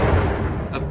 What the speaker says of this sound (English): the explosion was an assassination attempt on you carried out by extremist liberal spinner group known as the Freedom League